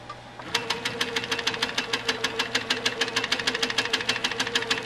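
A sewing machine stitching a ribbon candy quilting pattern, its needle pounding in a fast, steady rhythm after a brief start, loud and close with a low motor hum beneath.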